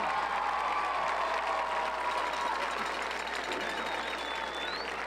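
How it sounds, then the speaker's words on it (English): Crowd applauding steadily in the stands at a high school football game during a homecoming court announcement, a continuous, even wash of clapping and some cheering that holds at a moderate level for the whole stretch. "Let's give all our representatives a huge round of applause."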